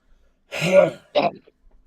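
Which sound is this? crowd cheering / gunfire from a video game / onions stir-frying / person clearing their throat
person clearing their throat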